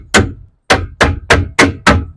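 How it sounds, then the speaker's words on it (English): Six sharp hammer blows on nails in a wooden board, loud and close, a single strike, a pause, then five in quick, even succession. "use the hammer"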